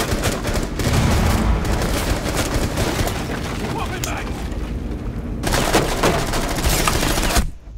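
Gunfire in Rainbow Six Siege on the Yacht map during a hostage team deathmatch: dense, loud, sustained rapid shooting with booming impacts, continuing for several seconds before cutting off abruptly.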